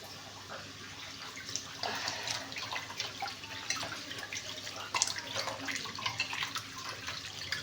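Hands are rinsed under a running tap, a steady hiss of flowing water with irregular splashes and spatters as the hands move through the stream, fairly close and quiet.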